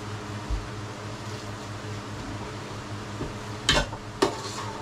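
Pork cubes sizzle in a pan with a steady crackling hiss, broken by a few sharp scrapes and clinks of a utensil stirring near the end, close and with no talking.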